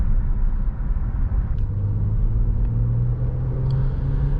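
Interior rumble of a 2022 Honda Pilot Special Edition with a 9-speed automatic under way, a steady low engine and road drone with a faint rising tone as it pulls through the gears.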